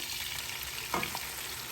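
Blended onion, crayfish and hot chili pepper hitting a pan of sautéed onions, giving a steady broadband sizzle throughout with a brief stirring scrape near the middle, close and fairly quiet.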